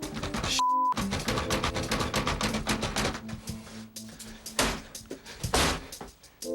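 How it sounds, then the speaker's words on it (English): Kicks against the back door of a house during a police search, thumping in short bursts amid dense, loud background music and noise. "He gave the back door there a couple of kicks."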